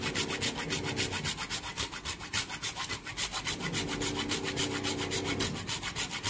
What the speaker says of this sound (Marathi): ह्यात आपण जायफळ थोडंसं किसून घालूया.